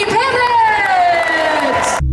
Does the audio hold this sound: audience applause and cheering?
yes